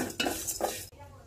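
Whole cardamom, cinnamon and panch phoron dry-frying in a pan, with a couple of quick stirring scrapes and rattles before the sound cuts off.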